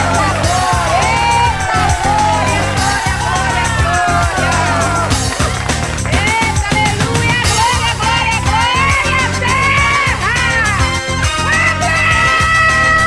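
Someone shouting and cheering loudly in a Brazilian TV studio, her voice rising and falling in excited whoops over a busy, constant backdrop of other voices and crowd noise throughout.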